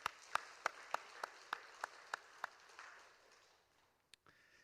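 Church members give a round of blessing applause at a Sunday afternoon worship service honoring a women's mission group: about nine sharp, evenly spaced claps in unison, fairly faint and roomy, trailing off into quiet with one late stray clap.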